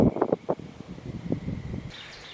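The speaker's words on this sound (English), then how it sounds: "I apologize for all the wind in this one" Gusty wind buffets the microphone outdoors beside a farmhouse greenhouse and garden, with uneven low rumbling bursts and soft rustling throughout.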